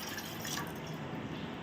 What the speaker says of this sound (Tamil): இப்போ தண்ணியை இந்த பேன்ல நான் ஊத்திக்கிறேன்.